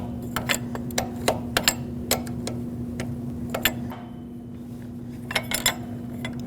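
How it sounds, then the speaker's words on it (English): Wrench clicking while tightening a flared fuel line fitting nut on a 2006-2015 Lexus IS250, a steady run of sharp ratchet-like ticks in uneven rhythm, close and moderately loud over a constant low hum, pausing briefly before a final few clicks. "I'm just going to take my wrench and make it nice and tight."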